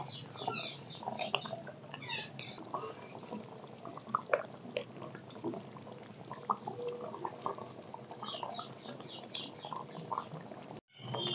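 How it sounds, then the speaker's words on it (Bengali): Katla fish curry boils in a pan, giving soft continuous bubbling and popping with a few quiet clicks, close and low in level, with no talking. "মাছ দিয়ে আমি ভালো করে ফুটিয়ে নিয়েছি"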